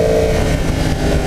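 A 2015 Yamaha R1 motorcycle engine runs loud and close, a steady droning hum with slight rise and fall in pitch at low road speed.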